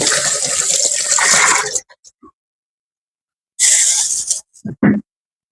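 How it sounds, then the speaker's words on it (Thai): Tap water runs loudly over a stone mortar being rinsed out while Thai chicken soup with young tamarind leaves is cooked, two bursts of splashing separated by a silent pause, ending with brief clunks. "ล้างคก"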